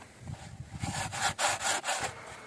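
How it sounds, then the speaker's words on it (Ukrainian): Wood being hand-sawn on a construction site, a quick series of rhythmic back-and-forth rasping strokes, close and fairly loud, with no talking. "пиляємо, друзі, пиляємо"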